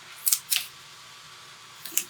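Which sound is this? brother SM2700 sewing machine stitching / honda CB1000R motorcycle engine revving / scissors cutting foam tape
scissors cutting foam tape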